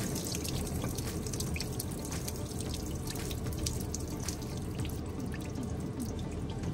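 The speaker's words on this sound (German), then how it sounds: "Ich habe außerdem auch den Test gemacht und wieder Wasser über die Scheibe laufen lassen." Water poured over the windshield of a Tesla makes a continuous, close splashing and trickling that stays steady throughout, with no voices.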